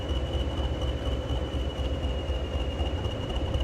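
Train Sim World 6 consist of four Class 20 diesel locomotives, two pairs at either end, running on the WCML between Crewe and Preston: a steady low engine rumble with rail noise and a faint high tone, continuous throughout.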